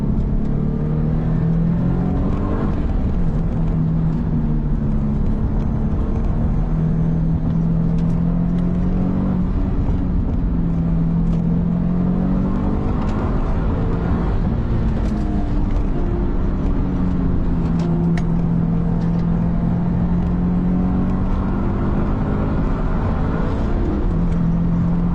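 A Subaru WRX STI S206 drives on the road with a steady engine drone, gear changes, and rising and falling revs under constant road and wind noise from inside the cabin.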